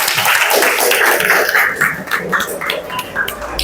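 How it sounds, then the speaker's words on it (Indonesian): A group of people clapping together in a room, a dense burst of applause that starts full and gradually thins into scattered, uneven claps. "Ya cukup, tepuk tangan."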